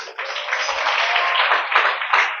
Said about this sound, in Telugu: ఆయనకి చప్పట్లు కొట్టండి ఒకసారి అందరు కలిసి